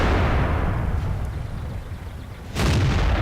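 Heavy artillery fire in the World of Tanks tank battle game, a deep sustained rumbling boom filling the clip, dipping slightly then followed by a sharp fresh blast near the end.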